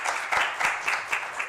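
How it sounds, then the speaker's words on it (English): An audience applauds a speaker named Sarah after a ministry talk on relationships, with a steady wash of clapping and a few sharper individual claps standing out, fairly close and moderately loud. "Can we give Sarah applause"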